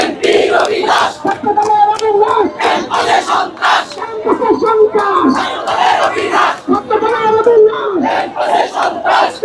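Large crowd chanting slogans in rhythmic shouted bursts at a student protest march, loud and close, voices rising and falling together throughout with no pause.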